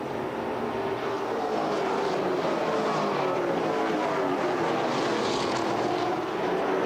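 Race cars roar around the track at the 1998 Tucson Winter Heat, a loud, continuous engine drone with a rising and falling pitch as the field runs through the corner.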